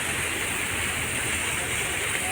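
Water pours steadily from a Mickey Mouse fountain in Joda Park, making a continuous broadband splashing rush at an even level for the whole stretch, with no voices over it.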